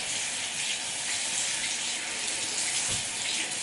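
Tap water runs steadily from a faucet as a face is rinsed, a continuous broadband hiss with no speech and only a faint splash near the end.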